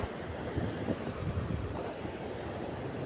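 Ocean surf rolls onto the shore in a low, rumbling wash mixed with heavy wind buffeting the microphone, steady over a few seconds with no talk.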